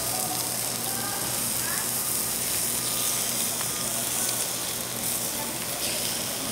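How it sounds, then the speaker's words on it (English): Tuna cheek meat sears in a pan, cooking in its own rendered fat with little or no oil, giving a loud, continuous close-up sizzle that holds steady throughout. "You don't even really want to sear this too much, just because it was pretty much perfect just the way it came."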